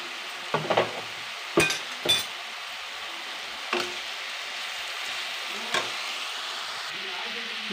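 Chopped tomatoes sizzling in a pan for a light poha snack, a steady soft frying hiss with a few clinks and stirring scrapes of a utensil against the pan, close and moderately quiet.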